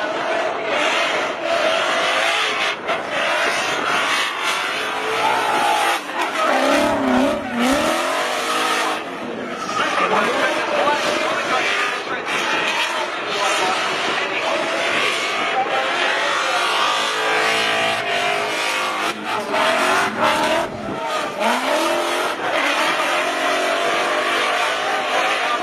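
Mustang RTR drift car roars on a track, engine revving hard and bouncing off the limiter with tires squealing, loud and continuous throughout, crowd noise faintly beneath.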